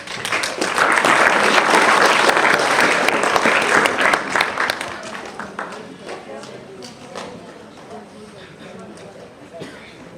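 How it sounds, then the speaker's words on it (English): A school poem recitation and speech competition audience breaks into loud, dense applause that holds for several seconds, then thins into scattered claps that fade toward the end. "So a big round of applause for the successful conduct of today's activity."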